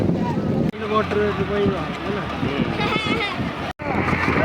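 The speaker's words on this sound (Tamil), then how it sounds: "40 ஹோர்ஸ் பவர் கொண்ட படகுகளுக்கான போட்டி தொடங்கியிருக்கு" Motorboats with 40-horsepower engines race on the sea off Mathagal, Jaffna, their engine drone mixed with wind buffeting the microphone, while someone talks loudly over it throughout.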